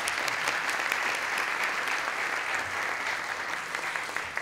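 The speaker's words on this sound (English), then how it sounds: "A round of applause, the most significant partnership ever." An audience applauding at a city arts partnership launch event, with dense, even clapping that stays strong and tapers slightly near the end.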